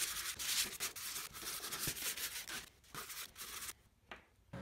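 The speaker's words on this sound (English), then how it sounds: "Go over each fin with 220 grit sandpaper." 220 grit sandpaper rubs across 3D-printed fins in quick, quiet back-and-forth strokes, a soft scratchy rasp repeating close by with brief pauses.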